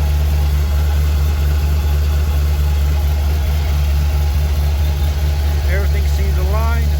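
A car engine idles with a steady low rumble close by, and a voice briefly speaks near the end.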